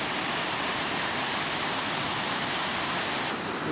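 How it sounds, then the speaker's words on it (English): Rushing water of a waterfall at Sunrift Gorge, a steady dense broadband roar that stays loud and unbroken throughout, with no voices over it. "You hear the rushing water."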